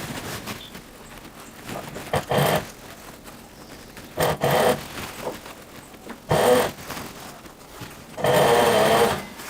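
Sewing machine stitching along the collar of a classic women's shirt, in four short bursts of rapid close whirring, the last the longest, with quiet pauses between runs.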